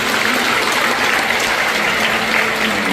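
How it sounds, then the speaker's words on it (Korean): Steady, loud applause from a congregation fills a church baptism service, a dense sustained patter of clapping with no pauses. "크게 박수해 주실까요?"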